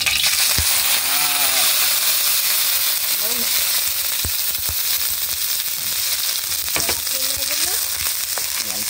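Ground pork sizzling in a little oil in a pan while cooking ginisang sayote, a steady loud crackling hiss throughout with occasional sharp pops and clinks of a utensil stirring, plus faint brief murmurs in the background.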